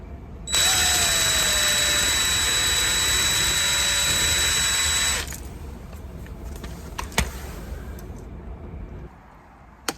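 A power drill or driver whines steadily for about five seconds while backing screws out of outdoor electrical outlet screw holders, then stops, leaving quieter clicks and handling noises.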